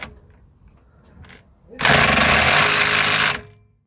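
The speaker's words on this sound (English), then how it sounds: "we're going to use our impact wrench" An impact wrench hammers loose bolts on the rear brakes of a Vauxhall Astra, one loud sustained rattling burst of about a second and a half after someone briefly speaks nearby.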